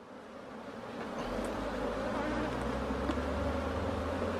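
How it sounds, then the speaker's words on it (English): A dense, continuous buzzing of many honeybees in an open hive during an inspection, close by, swelling slightly and then holding steady with a low hum underneath. "Quite a bit of bees here."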